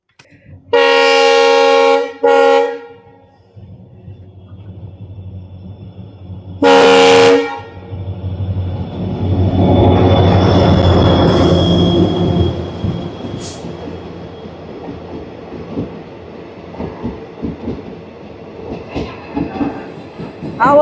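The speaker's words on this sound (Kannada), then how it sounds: "ಓ ಟ್ರೈನ್ ಬರ್ತಿದೆ" A train arriving at Arasalu station near Shivamogga, with two long loud horn blasts followed by rising rumble and a high metallic wheel squeal as the cars roll past, close and loud.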